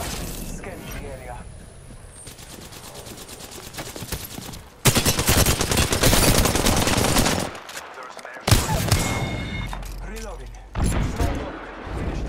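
Gunfire in Apex Legends, bursts of rapid automatic shots in several loud stretches separated by brief pauses, with game voice callouts in between.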